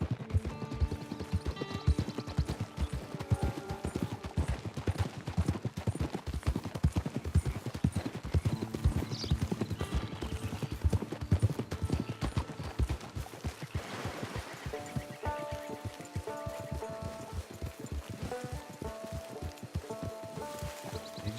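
A horse's hooves clip-clop in a steady walking rhythm through Red Dead Redemption 2, with a soft patter of rain, a brief whinny, and background game music underneath.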